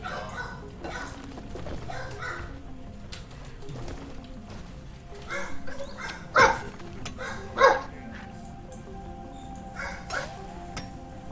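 A dog barks repeatedly, irregular short barks with a couple of louder, sharper ones standing out above a steady low background hum.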